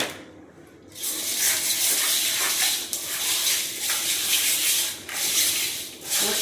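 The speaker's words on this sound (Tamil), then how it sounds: "கழுவுறதுக்கு உப்பு, மஞ்சத்தூள் போட்டு லைட்டாக கழுவிக்கலாம்" Cut fish being washed by hand with salt and turmeric, a steady wet rubbing and scrubbing that runs close and continuous after a brief quiet start, with short pauses between strokes.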